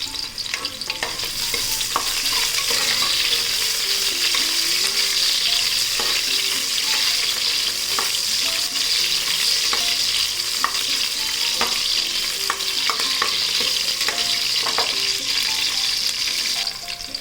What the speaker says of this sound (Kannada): ಈರುಳ್ಳಿ ಹಾಕ್ಕೊಂಡು ಸ್ವಲ್ಪ ಫ್ರೈ ಮಾಡ್ಕೊಳ್ಳೋಣ ಇವಾಗ.